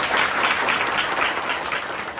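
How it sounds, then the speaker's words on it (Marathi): An audience applauds at a spiritual discourse, with dense, even clapping sustained at full strength across a couple of seconds and no pause. "एकदा आईसाठी आपण टाळ्या वाजवल्या"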